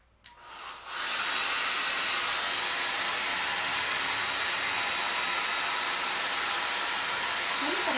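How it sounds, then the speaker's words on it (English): A hair dryer blows on chalk-painted Easter eggs, starting after a brief click and rising within a second into a loud, steady broadband whoosh that holds without pause, with no talking over it. "maybe I can blow dry this a little bit, see if I can get these to dry a little bit faster"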